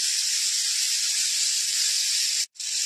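Fennel seeds dropped into hot oil for tempering, right after frying prawns, give a loud steady hiss that runs almost unbroken and briefly cuts out near the end.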